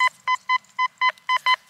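A metal detector sounds a series of sharp, regular electronic beeps, seven short tones in under two seconds, loud and close with no talk, while someone searches the ground.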